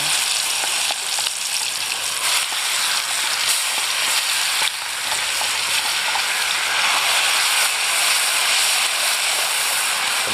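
Beef skin fries in hot oil, giving a loud, steady, close sizzling hiss with crackle that runs unbroken throughout.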